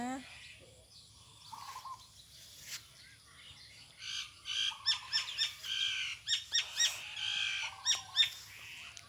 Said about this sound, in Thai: มีเสียงนกเสียงกาด้วยนะคะ